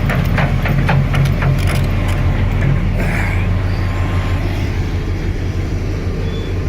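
A loader's diesel engine runs steadily at a gold mine, a deep continuous rumble with a low idling drone, close and loud with no speech over it.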